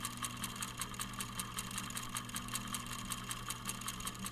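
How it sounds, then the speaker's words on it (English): Tiny pulse motor standing on a candle holder, running with a fast, even, engine-like clatter of rapid ticking pulses over a steady low hum, close and moderately quiet. "that sounds a bit like a real engine"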